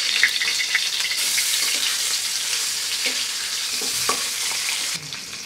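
Koi fish rubbed with salt and turmeric fry in hot oil, two or three large pieces at a time, giving a steady loud sizzle with occasional clinks and stirring noises before it briefly drops off.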